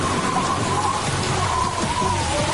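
Steady rain falling, a dense even hiss with soft patter on a surface, continuous and moderately loud with no voices.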